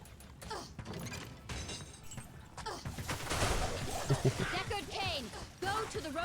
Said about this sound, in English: The sound when they shatter is sweet.